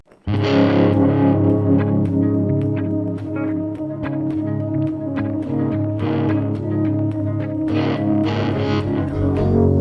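Heavily distorted electric guitars play a thick, sustained rhythmic riff, loud and continuous, with no voices.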